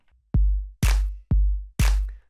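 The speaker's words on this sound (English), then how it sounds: "the claps sound like they come in a little bit late" Four punchy electronic clap samples over a deep kick in a tech house beat, spaced evenly and loud, each hit dry with a short decaying tail and nothing else in between.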